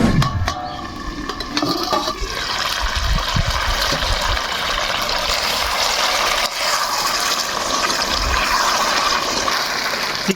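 Water pours into chicken chaat cooking in oil, a rushing gush and sizzle at first settling into a steady hissing, bubbling simmer that fills the whole stretch with no talk.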